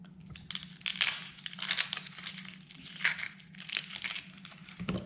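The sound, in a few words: peeling the outer layer off an onion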